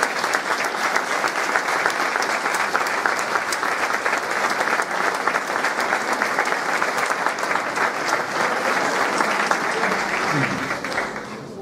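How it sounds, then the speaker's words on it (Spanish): Sustained audience applause for a municipal music band at a band music gathering in Garafía, La Palma, steady and dense clapping that holds for about ten seconds before easing slightly at the end. "Les pido un fuerte aplauso para la Banda Municipal de Música de Fuencaliente."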